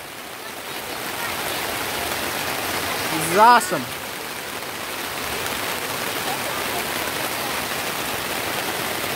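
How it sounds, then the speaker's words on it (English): Steady rain pours down across a campsite during a storm, a continuous broadband wash lasting throughout, with a short spoken exclamation partway through. "Rain."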